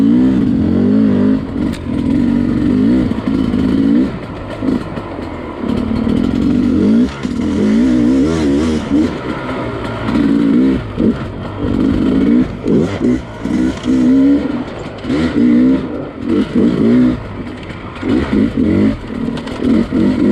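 A Sherco 250SE dirt bike is ridden through corners, its engine buzzing loudly and close, rising and dropping in pitch with repeated throttle bursts and brief lulls.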